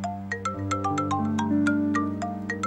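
A mobile phone plays a melodic ringtone, a bright sequence of repeating chiming notes over a sustained tune, moderately loud and close, with no talking during it.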